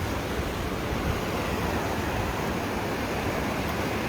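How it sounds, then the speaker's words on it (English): Whitewater rapids at Montgomery Whitewater Center, a loud unbroken roar of rushing, churning water filling the whole clip without pauses or voices. "it looks like almost every little spot there's a rapid, it's also automatically a surf wave."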